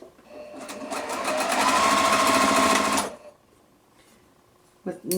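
A sewing machine stitches quilt pieces for a star block in a steady, close, whirring run of about three seconds, then stops, leaving quiet with a faint bump at the end.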